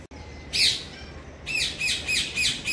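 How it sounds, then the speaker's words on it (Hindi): A Hiraman parrot at Delhi zoo gives a series of shrill, squawking calls: one early burst, then four quick repeated calls in a steady rhythm, close and fairly loud over faint background hum. "इस तोते का नाम हीरा मन तोता है।"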